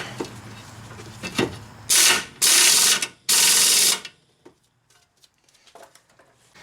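A ratchet tightens the nut on an outer tie rod of a 2002 Mitsubishi Lancer in three loud, close bursts of rapid clicking, then it goes quiet with only faint handling noises.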